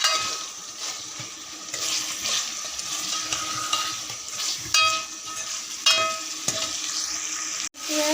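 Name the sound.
chicken being sautéed (bhunai) in a pan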